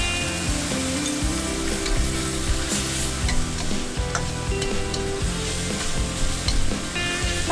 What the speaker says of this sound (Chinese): 小半碗水加1勺淀粉搅拌，从锅边淋入，勾一个薄芡，